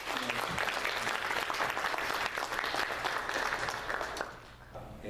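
A congregation gives sustained, even applause in church during a New Year thanksgiving service, welcoming a newly appointed honorary deaconess. The clapping fills the room for over four seconds and then thins out.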